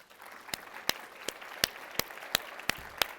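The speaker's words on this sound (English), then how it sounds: "give yourself a little round of applause to how far you've come" Sparse, evenly spaced hand claps at a women's business conference, about nine crisp claps roughly every third of a second over a faint murmur, with no clear talking.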